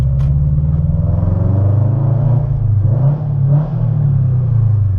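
A Subaru BRZ's exhaust, with a catback exhaust and HKS front pipe, rumbles loud and deep, echoing in a tunnel, with the engine note rising and falling through a rev.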